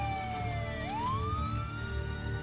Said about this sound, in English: Ambulances arrive within minutes.